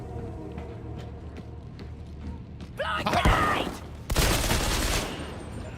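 Grenades go off in the video game Darktide, two heavy blasts in quick succession amid gunfire and combat clatter, loud and close, with game sounds layered over each other.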